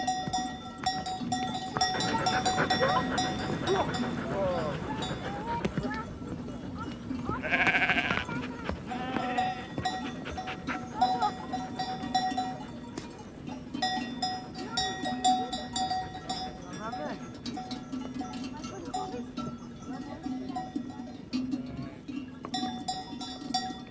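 A flock of sheep in the mountains bleats on and off outdoors, overlapping calls mixed with the clank of cowbells.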